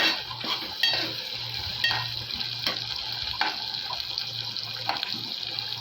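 Stirring a potato fry with onions and curry leaves in a pan on low heat, with steady utensil scrapes and light clinks over a constant background hiss.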